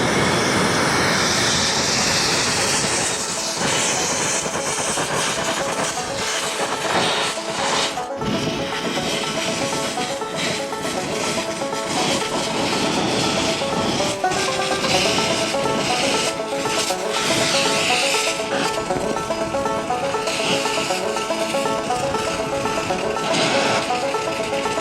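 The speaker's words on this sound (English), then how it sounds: "I'm just gonna take the torch, heat it up around, just hit the ring gear, try not to hit the flywheel." A torch roars steadily while heating the ring gear on a flywheel during a ring gear replacement, a loud, continuous broadband hiss that runs close and unbroken throughout.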